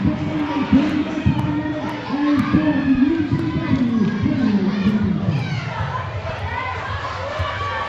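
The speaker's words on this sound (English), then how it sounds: "you hear the roar of the crowd for the King" A wrestling arena crowd roars for the King at a KAPOW Classics show, a broad swelling din of cheers and shouts heard under an announcer's voice that rises and ebbs across several seconds.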